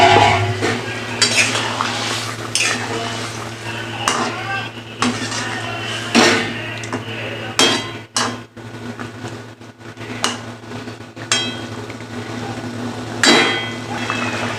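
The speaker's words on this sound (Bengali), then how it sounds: "গ্রেভিটা তো ফুটে গেছে, এবার আমি মাছ আলু পটলটা দিয়ে দিচ্ছি।" Fish, potatoes and pointed gourd go into boiling gravy and get stirred: repeated clinks and scrapes of a utensil against a pot over a steady low hum, with soft bubbling between strokes.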